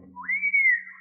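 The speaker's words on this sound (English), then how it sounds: "Then he must have pitched that blazing ball, 'cause there was a whistling sound." A blazing pitched ball whistling through the air in an old-time radio baseball drama about Satchel Paige: a single clean whistle that swoops upward, holds high and bright, then slowly tails off, alone over a faint low hum.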